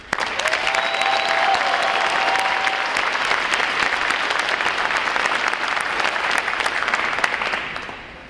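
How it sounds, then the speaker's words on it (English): Crowd at a U.S. Navy Recruit Training Command graduation ceremony applauds loudly and steadily for several seconds, with a brief tone early on, before the clapping tapers off at the end. "Round of applause for their outstanding performance."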